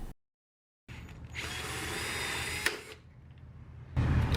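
Power drill grinding steadily through a rivet on a truck topper rear window frame, a continuous close whirring with a brief sharp bite near the end before stopping.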